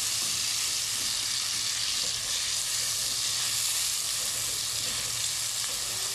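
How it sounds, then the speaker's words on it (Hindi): Tomatoes fry in a pan for an egg and potato curry, giving a steady, loud sizzle with soft stirring throughout and no talking. "टमाटरों को ऐड कर दिया अब हमने। अच्छे से मिक्स करना है इसको।"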